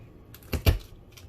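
A knife pressed through a raw chicken joint while butchering a whole bird, two quick close clicks and a dull crunching snap in rapid succession, short and fairly loud against near silence.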